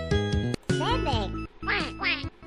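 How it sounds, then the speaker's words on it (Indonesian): Cartoon duck quacks in an Indonesian children's educational game, several bright, close, nasal quacks in short bursts, each followed by a pause. "Bebek."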